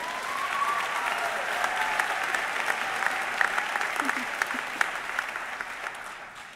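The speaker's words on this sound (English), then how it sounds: "Put your hands together for the graduating class of 2013" Audience applause for a graduating class of 2013 at a high school graduation ceremony, a dense sustained clapping with a few cheers, steady and loud throughout before tapering at the end.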